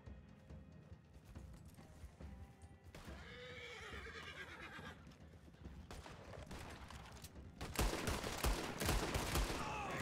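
A horse neighs loudly with a long whinny among hoofbeats in Red Dead Redemption, followed by a burst of rapid gunfire near the end.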